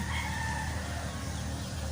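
A chicken clucks and calls nearby over a steady outdoor background hum.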